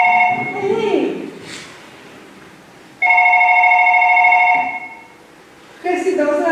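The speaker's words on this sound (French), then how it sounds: "Mercedes, téléphone." A telephone rings twice in a row with steady electronic tones, loud and close, while a person speaks briefly between the rings.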